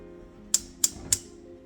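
A kitchen stove is switched on while stuffed peppers are being made: three sharp, evenly spaced igniter clicks ring out close and clear over a faint low hum.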